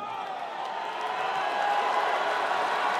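A crowd at a strongman event cheers and applauds an attempt at the Axle world record, with a steady wash of claps and shouts that holds level and swells slightly over a few seconds.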